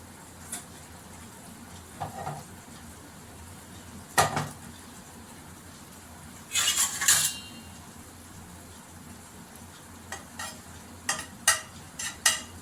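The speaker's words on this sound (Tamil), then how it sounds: "லேசாக பாதி உருகிறப்பே முந்திரியை போட்டுக்கலாம்" Cashews dropped into half-melted ghee in a pan give a soft sizzle beneath scattered metallic scrapes and clinks of a spoon stirring against the pan, with a few louder bursts of frying hiss.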